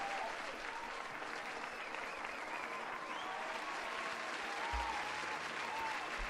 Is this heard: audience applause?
yes